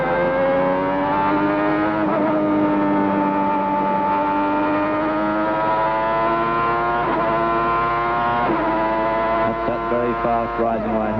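Jean Alesi's Formula One car at the 1991 Spanish Grand Prix screams in an onboard recording, its engine note climbing steadily through each gear, then dropping sharply at several upshifts. The sound is loud and continuous throughout.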